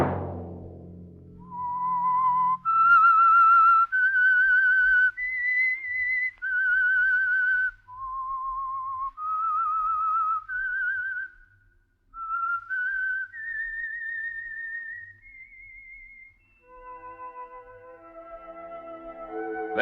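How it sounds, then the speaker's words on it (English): A whistled theme melody for The Whistler, a radio mystery program sponsored by Signal Oil. A single clear, close whistler carries a slow, wandering tune of sustained notes, then soft music comes in at the end. "Let that whistle be your signal for the Signal Oil program, The Whistler."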